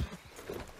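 Hoofbeats of a spooked horse in the Red Dead Redemption 2 video game, a short burst of low thudding clip-clop steps with a brief whinny-like tone, moderately loud and close.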